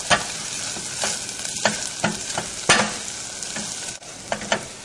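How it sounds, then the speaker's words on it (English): Dry thyme is stirred into a hot frying pan, bringing a steady sizzle broken by several sharp scrapes and taps of a utensil against the pan, close and clear with no talking. "Put the thyme in and stir."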